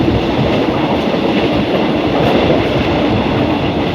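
Train 254 departing Hua Hin station, heard from on board as a loud, steady rumble with rhythmic clickety-clack of wheels over rail joints, no talking.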